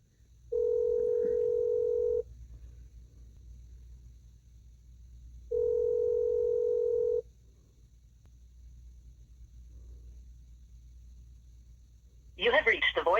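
Two long steady telephone ringback tones sound in a row with silent gaps between, followed by a brief burst of broadband noise at the end as the call reaches voicemail.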